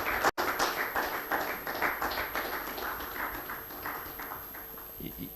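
A conference audience claps to welcome a speaker walking up, a steady rhythm of individual claps at moderate volume that holds throughout, with a voice heard faintly underneath.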